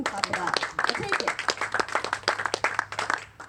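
An audience breaks into applause at a Sonoma winegrowers sustainability talk: a dense, steady patter of many hands clapping, moderately loud and sustained for several seconds.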